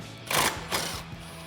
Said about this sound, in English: So I'm going to use a 10mm socket to remove this bolt